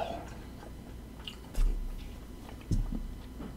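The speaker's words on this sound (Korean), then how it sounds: "님들 이거 씹는 소리 들려요?" Someone chews spicy seafood noodle soup with abalone up close, with soft, quiet mouth sounds and two sharper bites, without any talking.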